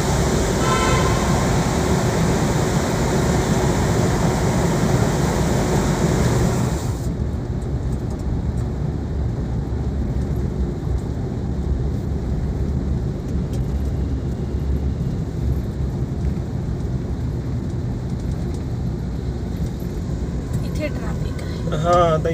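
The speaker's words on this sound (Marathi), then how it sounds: "टनल मध्ये मजाच येते चालवायला गाडी." A car drives through a road tunnel with a loud, steady broadband roar of engine and tyre noise. The sound drops and thins partway through, as if the echoing enclosure opens up, and continues as a softer road hum.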